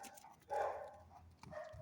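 A puppy barks during a game of fetch with a small ball, giving a couple of short, close yips with quiet gaps between them.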